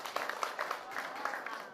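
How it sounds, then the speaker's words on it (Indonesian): Audience applause at a Balinese drama gong performance, a brief burst of steady clapping from a crowd at moderate distance. "Tepuk tangan."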